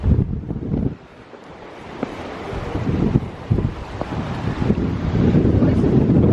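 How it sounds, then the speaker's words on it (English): Strong gusty wind buffets the microphone at the top of a tall structure at an outdoor market in Lanzarote, roaring and rumbling in surges, briefly dropping before building to a steady blast. "windy up here."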